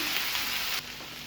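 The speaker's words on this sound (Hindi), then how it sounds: "तकरीबन 30 से 40 सेकंड्स के लिए हम इसको फ्राई करेंगे।" Garlic paste sizzles in hot oil on a tawa while a spicy chicken tawa boti is cooked, a brief, loud, even hiss that drops away suddenly.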